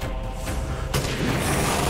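A pipe bomb goes off in Resident Evil Village: a sudden loud, broad blast lands near the middle of a dense, noisy game soundscape and rumbles on briefly.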